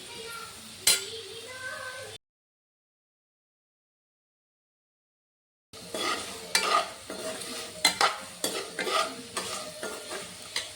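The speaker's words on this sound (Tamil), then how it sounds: "ரொம்ப போட்டு இப்படி இப்படி கிளறிடாதீங்க, லைட்டாக." Spicy potato curry stirred gently in a pan, giving soft scraping and sizzling with light clinks of the spoon, broken by a silent gap before the stirring resumes.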